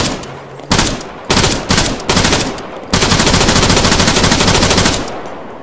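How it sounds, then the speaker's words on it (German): Loud bursts of automatic gunfire hitting a wall in Arma 3, several short volleys followed by a long sustained stream of rapid shots with impacts, no talking. "Hinten schlagen Schüsse ein, in der Wand."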